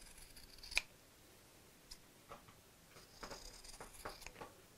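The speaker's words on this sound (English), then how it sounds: "then simply cut around the curve" Scissors snip around a curved line in fabric for a zip pocket bag, a few quiet, separate close cuts with a sharp click near the start, no talking.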